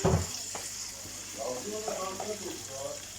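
Rice toasting in a pan in a home kitchen, a soft continuous sizzle with light stirring scrapes and a faint water-like hiss, while a few quiet voices talk over it.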